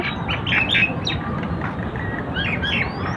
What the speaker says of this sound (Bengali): এখানে সেখানে কিচিরমিচির করে ডাকছে